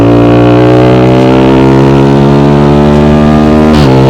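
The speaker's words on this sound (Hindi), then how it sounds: "एंड लास्ट में ये एग्जॉस्ट आता है।" A Yamaha R15 V4 motorcycle fitted with an SC Project exhaust idles and holds a loud, close, steady engine note with strong harmonics, then gives a brief blip near the end.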